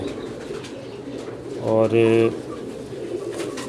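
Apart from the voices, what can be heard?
teddy pigeon cooing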